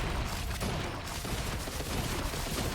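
Rapid SMG gunfire in the video game Risk of Rain 2, a dense continuous rattle of shots layered with other combat noise, fairly loud throughout with no talking.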